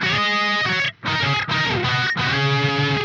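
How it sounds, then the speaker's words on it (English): Electric guitar chords through a Sonicake Matribox 2 Pro pitch shifter at default settings, with a thick, doubled lower octave, played in short bursts with brief gaps between them. "Then let's try adding a pitch shifter. So by default, it sounds like this."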